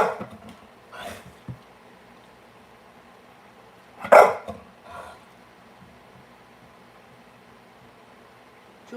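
A dog named Dylan barks indoors, with a few sharp barks spaced out and one louder burst midway, then quiet background hiss.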